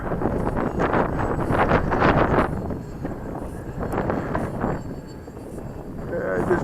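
Strong wind buffets a small drone, a Mako, flying over snowy white ground, the gusts roaring loud and close in rising and falling surges.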